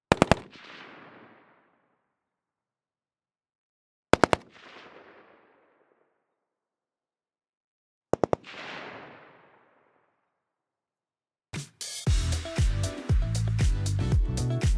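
Gun sound effects made for film and video games: three separate quick bursts of sharp, loud shots, each trailing into a fading echo, spaced about four seconds apart, then a denser, continuous stretch of rapid layered firing.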